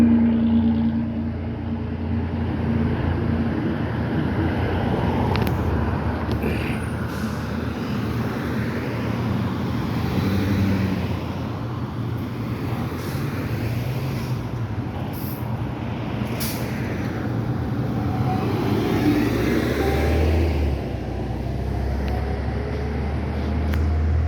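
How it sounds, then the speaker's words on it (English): Steady city street traffic on Washington Street in Boston, a continuous rumble of passing cars and heavy vehicles with occasional brief hisses and clanks, fairly close and constant throughout with no talking. "Watch some of the traffic."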